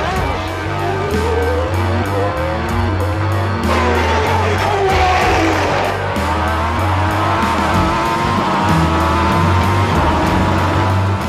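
Formula 1 race cars from the 1993 season, a Ligier passing a Lotus under braking into a chicane, roar loudly and continuously with shifting engine pitch, layered over crowd noise and faint commentary-like voices throughout.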